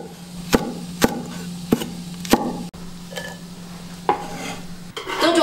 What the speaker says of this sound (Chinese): 辣椒先都切段